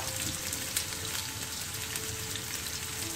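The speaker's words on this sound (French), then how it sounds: "il faut que je vais caraméliser ces oignons là" Onions fry in a pan as they caramelize for mini pizzas, giving a steady, close sizzling hiss with faint scattered pops.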